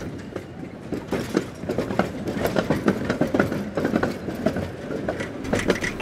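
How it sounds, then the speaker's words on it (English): Tram rolling along its tracks, with rhythmic clattering wheel knocks and rumble at moderate volume, steady over several seconds. "Tram."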